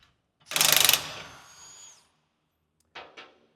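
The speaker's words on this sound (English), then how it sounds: "taking out the torsion bar bolts" A ratchet or power tool loosens torsion bar bolts on a GM heavy-duty truck raised on a hoist, giving a loud half-second burst of rapid clicking that fades into a whir, then two brief clicks a second later.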